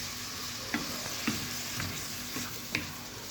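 Onions and colored bell peppers sauté in a pan with a continuous soft sizzle, while a spoon scrapes and stirs about five times at a fairly regular pace.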